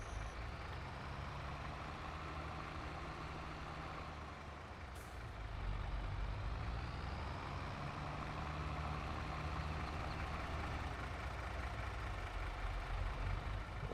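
A John Deere truck in a farming video game, its engine droning steadily throughout, with a hiss like an air brake around midway, after which the engine grows slightly louder as it drives on.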